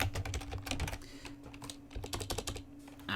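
Rapid clicking of keys on a computer keyboard while filling in spreadsheet cells, close and fairly quiet, in quick irregular bursts with brief gaps.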